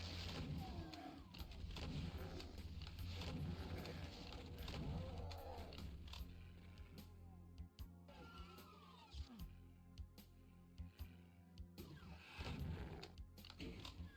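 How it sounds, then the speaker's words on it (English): Rapid, dense gunfire from the chain gun in the shooter game Doom II, with sustained, loud and continuous shots and booms over busy game noise and no talking. "I have a chain gun though."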